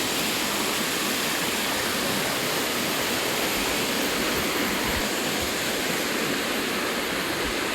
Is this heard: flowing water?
yes